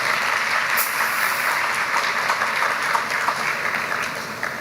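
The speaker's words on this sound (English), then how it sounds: "Please give them a round of applause," Loud, dense applause from a large audience at a general orientation for new undergraduate students, continuous and evenly sustained throughout.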